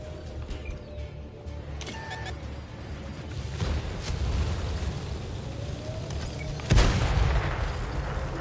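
A tank blows up in the video game World of Tanks. Low rumbling booms and bursts sit over a steady engine drone, and a louder explosion hits near the end.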